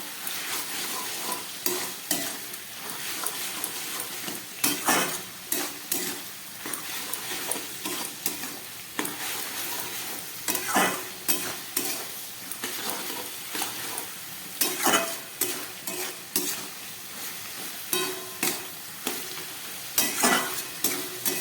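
Bottle gourd and peas curry (lau ghonto) sizzles in a pan while a spoon stirs it in repeated scraping strokes and taps against the metal, close and steady for about twenty seconds without speech.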